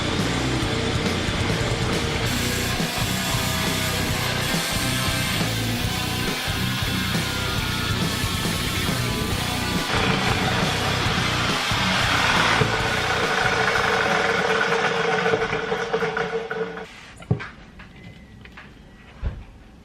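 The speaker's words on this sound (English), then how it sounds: "the Sawzall" A Sawzall reciprocating saw tears into a dense cube of crushed aluminum foil, a loud continuous broadband buzz with rough grinding texture for most of the stretch, then cutting out abruptly near the end into a couple of brief clunks.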